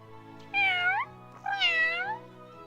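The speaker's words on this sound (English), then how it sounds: "Meow. Meow." Two drawn-out cat meows from the video game Scott Whiskers: The Search for Mr. Fumbleclaw, each about half a second, clear and close over a soft musical background, with no talk.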